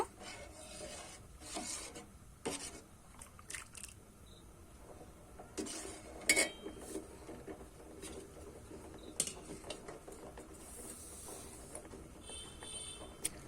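Milk being stirred in a pot while it boils for date-palm-sap payesh, with a steady scraping, rubbing texture of spoon against the pot and scattered louder strokes, close and fairly quiet throughout, no voices.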